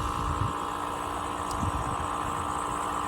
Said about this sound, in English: I don't like the sound of the tractors.